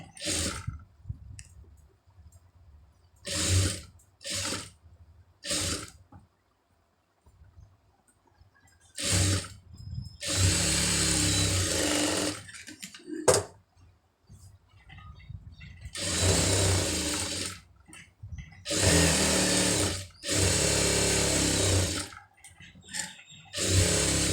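A sewing machine stitching the lining of a blouse runs in repeated short bursts, stopping and starting, with a low motor hum under a rattling whir, loud and close.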